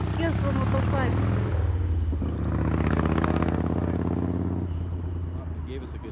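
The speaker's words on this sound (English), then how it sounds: "They get scared from motorcycle." A motorcycle engine rumbling nearby in Yellowstone, a steady low drone that swells and then fades, with people talking over it.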